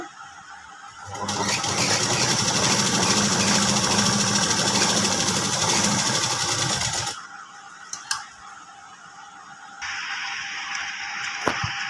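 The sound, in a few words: sewing machine top stitching a fabric edge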